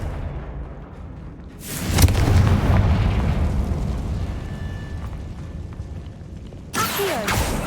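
A Confringo explosion spell is cast in the video game Hogwarts Legacy, giving a loud, broad blast that rumbles for several seconds and then a second sharp burst near the end.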